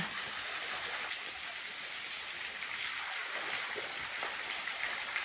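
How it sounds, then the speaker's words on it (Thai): Water at Saeng Chan waterfall in Pha Taem National Park, Ubon Ratchathani, rushes in a steady, even hiss, a constant broad wash of falling and splashing water with no voices over it. "น้ำตกแสงจันน้ำนี่เดียวเองจ้ะ"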